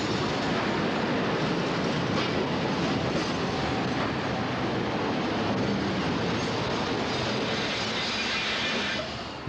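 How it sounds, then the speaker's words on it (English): An eastbound two-car South Shore interurban train with modernized cars rounds a curve near Hammond station. A loud, steady, dense roar fills the whole stretch and eases slightly at the very end. "an eastbound two-car train comes around the curve."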